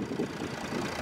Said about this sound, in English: Has a 3-litre V6 turbo diesel engine